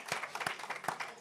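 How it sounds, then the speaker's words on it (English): Brief burst of audience applause at a climate and land-rights event, soft mixed clapping from a gathered crowd, short and fairly quiet. "I think a big round of applause to him."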